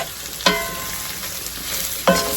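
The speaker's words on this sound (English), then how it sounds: "I am going to cook these until they are nice and cooked down and tender." Mushrooms seasoned with salt and pepper fry in a pan with a steady sizzle, broken by two sharp scraping stirs about a second and a half apart, close and fairly loud, with no talking.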